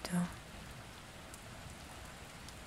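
Soft rain patters against a window glass, a faint, steady hiss of drops that runs on evenly without pause.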